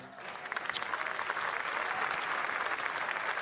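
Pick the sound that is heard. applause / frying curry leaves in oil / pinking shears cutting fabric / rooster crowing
applause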